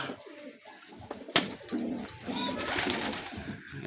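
Pigeons coo softly nearby, low throaty calls over a muffled background, with a sharp knock partway through.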